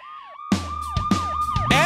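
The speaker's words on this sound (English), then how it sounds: "Ambulance!" Cartoon ambulance siren wailing in a steady repeating up-and-down pattern, loud and close, starting abruptly after a brief lead-in tone.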